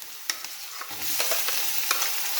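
Ginger-garlic paste and chopped tomatoes fry in a pan with a steady sizzle, punctuated by sharp clicks of a spoon stirring against the metal, the hiss swelling louder after the first second.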